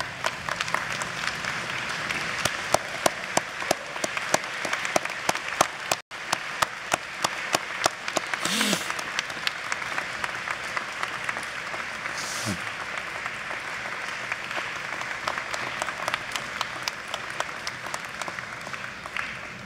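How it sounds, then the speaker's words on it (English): Sustained standing applause fills a large hall or arena at a university commencement, a dense, even roar of many hands clapping that continues throughout, with a few faint voices and cheers mixed in. "deserve a sustained, rousing, and standing round of applause for your people"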